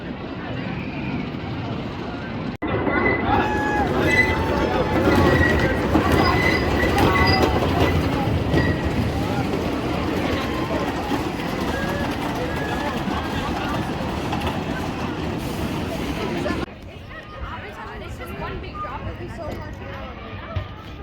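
Rumbling run of the Racer 75 style racing wooden roller coaster at Kings Dominion, with a sustained loud roar and clattering rattle of cars on wooden track, wheels squealing, riders' voices mixed in, then fading as the train slows.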